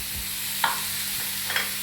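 A ground soybean mixture is stir-fried in a pan for homemade momo filling, giving a continuous close sizzle broken by two or three quick scraping strokes of a spatula, with no speech.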